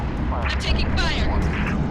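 Heavy incoming gunfire in the Halo Reach space battle, a dense burst of loud, overlapping shots and impacts filling the short stretch, with in-game radio chatter running underneath.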